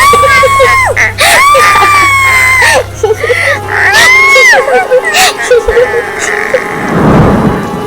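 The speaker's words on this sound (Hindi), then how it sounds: "उसकी चीख पुल पर गूंज उठी" Shrill, wavering scream sound effect in a Hindi horror audio story set on a bridge on a rainy night, several rising and falling cries layered with a woman's piercing shriek and eerie laughter, ending in a swelling rumbling swoosh.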